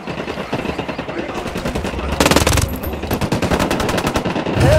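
Automatic gunfire in the video game Ghost Recon Wildlands: loud, rapid bursts of shots, near and continuous, that grow heavier partway through, with faint in-game voices underneath.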